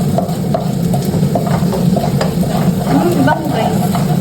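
Chopped onion hitting a hot frying pan while pasta sauce is being started, a steady loud sizzle and crackle with occasional stirring clatter, continuous from start to finish.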